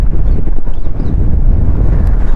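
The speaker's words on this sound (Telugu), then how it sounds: "గాలి సౌండ్ ఎక్కువ వస్తుంది ఇక్కడ." Strong wind buffets the microphone at a scenic spot near Gandikota, a loud, constant low rumble with gusty fluctuations and no speech.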